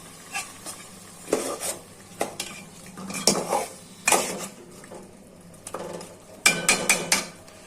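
Boal fish heads fry in a pan with green chillies while a metal spatula stirs and scrapes in irregular bursts of clanks and scraping, over a quiet sizzle, with no voices.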